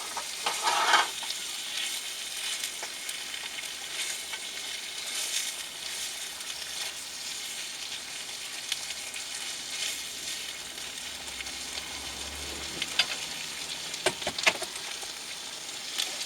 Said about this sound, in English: Mix it all in nicely so all the pasta gets a nice coating and the scallops and stuff.